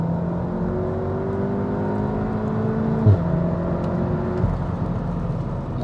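A VW MK7 Golf R engine with automatic gearbox, heard from inside after a downshift: a steady, rising engine drone that dips briefly at a quick gear change, then climbs again, loud and continuous with no talk.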